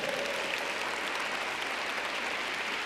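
A church congregation applauds, a dense and steady wash of clapping from a large crowd with no gaps, heard at moderate distance in a big room.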